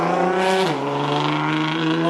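A Corvette sports car roars past on a suburban Toronto street, its loud engine revving with a steady harmonic drone that dips in pitch as it goes by, close and dominant throughout.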